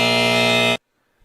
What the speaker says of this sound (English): That was a long buzzer.